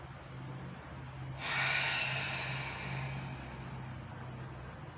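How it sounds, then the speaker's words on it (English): A long, audible inhale draws in through the mouth into the belly during meditation, then gradually fades into a slow, soft exhale in a quiet room. "breathing in again into the belly and exhaling."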